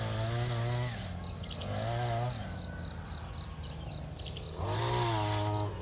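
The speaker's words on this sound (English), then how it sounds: "This is that little chainsaw limb trimmer." Wild Badger Power multi-tool chainsaw limb trimmer cutting tree limbs outdoors, its small motor whining loud and close in repeated surges that rise and ease off, with birds and insects faint in the background.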